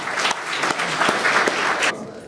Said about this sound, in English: I would like to join me in a round of applause for the excellent speakers.